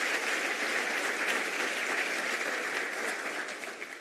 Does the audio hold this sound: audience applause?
yes